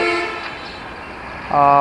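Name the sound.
Banalata Express passenger train, Dhaka to Rajshahi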